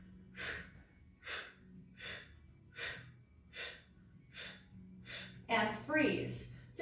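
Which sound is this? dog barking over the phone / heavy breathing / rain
heavy breathing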